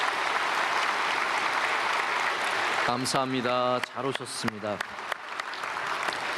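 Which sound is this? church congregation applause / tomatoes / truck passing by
church congregation applause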